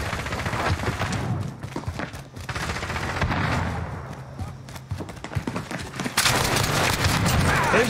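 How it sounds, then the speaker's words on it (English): Shooter video game combat with bursts of rapid gunfire and booming impacts, loud and close, with sharp crackling shots, a brief lull midway, then a dense barrage near the end. "Taking fire!"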